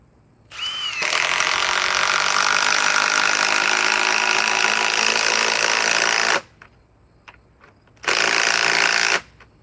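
A battery-powered impact wrench runs in two bursts: a long steady whirring buzz of about five seconds, then a short pause with small clicks, then a second burst of about a second and a half, loud and close.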